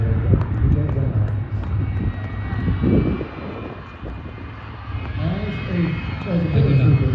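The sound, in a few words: aircraft flying at an air show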